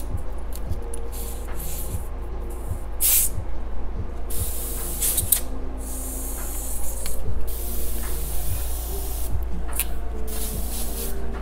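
Airbrush spraying paint onto a T-shirt, a steady close hiss in repeated bursts with short pauses, over a constant low hum from the compressor.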